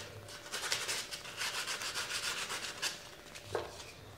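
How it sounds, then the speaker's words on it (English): Steady scratchy rubbing of 180-grit sandpaper scuffing a deer antler, continuous close strokes for about four seconds with a brief sharper scrape near the end, no voices. "Just gonna get a little 180 sandpaper and scuff it a little."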